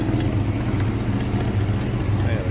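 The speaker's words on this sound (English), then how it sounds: "There's that 327." A 1956 Chevrolet Bel Air 2-door post with a 327 V8 idles close by, a steady low rumbling burble with a slight exhaust leak near the manifold, holding even throughout.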